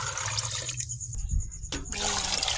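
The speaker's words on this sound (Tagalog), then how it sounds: "Lagyan na natin ang tubig." Tap water runs and splashes into a cooking pot for Filipino sopas soup, a steady close rushing stream with a brief pause in the middle and some faint background voice.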